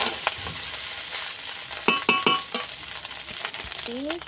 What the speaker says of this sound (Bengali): আমি প্রথমে ভাতটা একটু নেড়ে চেড়ে নেব, তারপরে সবজিগুলো মিশিয়ে নেব।